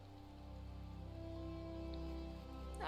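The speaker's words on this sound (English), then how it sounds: "It raining!" Steady soft rain in Final Fantasy XIV, a continuous even patter with a low ambient drone underneath, faint and constant throughout with a brief brighter splash near the end.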